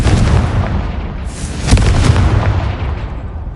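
A Confringo fire spell blasting in Hogwarts Legacy, heard as a dense, roaring explosive rumble with one sharp crack near the middle and booms that fill the short stretch, loud and close, with no talking.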